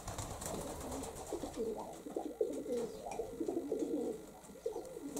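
Several domestic pigeons kept in a loft coo softly in overlapping rolling phrases, close by and quiet, continuing steadily for several seconds with no talking.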